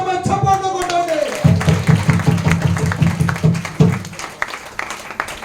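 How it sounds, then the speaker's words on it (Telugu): A church congregation at a watch night service claps rhythmically in steady unison after a sung phrase, loud and close, with voices mixed in among the clapping. "అలా మీరు నమ్ముతున్న వారు మాత్రమే చప్పట్లు కొట్టండి"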